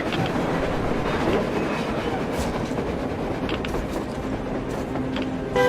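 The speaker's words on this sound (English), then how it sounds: "Looks like they're chasing that train too." A train rolls past in the video game Metro Exodus, with a steady rumble and clatter of wheels and cars that holds throughout, a faint squeal coming in near the end.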